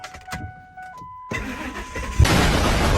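A car engine cranks and catches on its first start after a spark plug change, the starter whir building into a loud, steady running roar that stays close and continuous to the end.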